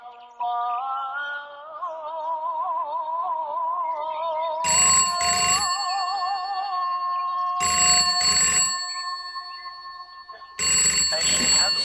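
Telephone rings in three loud bursts of trilling electronic bell, each about a second long, breaking through a sustained sung melodic line in a quiet room.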